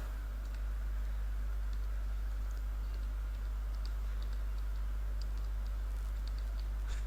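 Someone typing on a computer keyboard, a quick scattering of light, faint key clicks over a strong steady electrical hum, close and irregular in rhythm.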